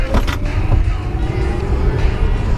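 Tesla Model S electric car accelerating hard from around 30 mph, heard as a steady low road and cabin rumble with a faint whine, fairly even in loudness throughout.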